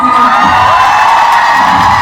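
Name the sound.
concert audience applauding and cheering for the dancers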